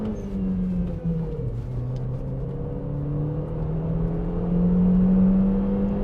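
Inside a Chevrolet Cruze with a 1.4 turbo engine, the engine hums and then revs up as the car accelerates, building to a louder, higher drone toward the end.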